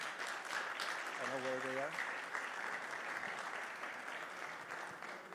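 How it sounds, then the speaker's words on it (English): An audience at a summit's outdoor playground stage breaks into applause, clapping that is moderately loud and fairly steady, with a brief spoken voice and a short sung or tonal voice sound near the start. "So can we give an applause to the?"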